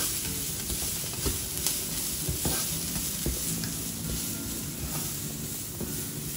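Onions fry in a pan for dahi aloo, a steady close sizzle with scraping stir strokes and small pops throughout, no voices.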